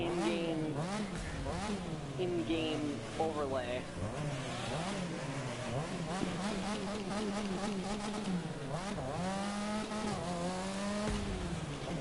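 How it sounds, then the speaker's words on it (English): A 3-rotor rotary-engine car in The Crew 2 races on, its buzzing engine note repeatedly rising and falling through the gears, with someone talking over it the whole time. "that's what you call a rotary engine. Especially a 3-rotor."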